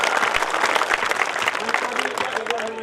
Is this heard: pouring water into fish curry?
no